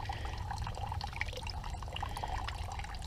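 Cold water poured out steadily from a homemade water-heating stove setup, a continuous splashing, trickling flow with no talk over it.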